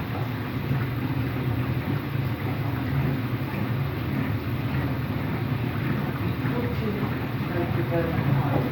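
A washing machine running an empty rinse and spin cycle with worn bearings gives a steady, loud, rough rumbling whir that continues without a break.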